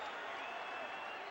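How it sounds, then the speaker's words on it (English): Boxing arena crowd at a Fernando Vargas versus Ricardo Mayorga fight cheers and applauds in a dense, sustained roar that stays loud and unbroken for the whole brief stretch. "Vargas has the crowd on its feet."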